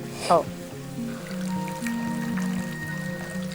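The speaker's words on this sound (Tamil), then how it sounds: "உங்களுக்கு தேவையான அளவு தண்ணி ஊற்றிக்கணும்" Water trickles and pours into a cooking pot while a Kerala-style mixed vegetable dish is being made, a soft, continuous stream running under a person's steady talking.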